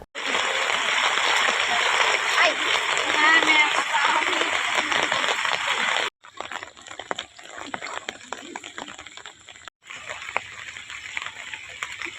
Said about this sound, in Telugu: భారీ వర్షం కారణంగా పొంగి పొర్లుతున్న పంబలేరు వాగు